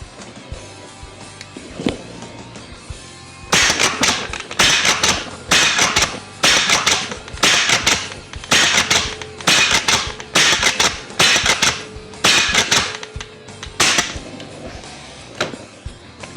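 Gamo CO2 Extreme .22 caliber multi-shot CO2 hunting rifle firing a rapid string of about ten sharp cracks in a steady rhythm, each loud and close, following quieter mechanical handling noises.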